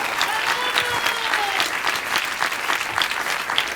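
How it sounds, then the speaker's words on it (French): Audience applause at a Lyme disease research talk, dense steady clapping from a sizable crowd lasting throughout, with a few faint voices mixed in. "Il faut les applaudir."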